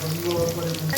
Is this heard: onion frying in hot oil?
yes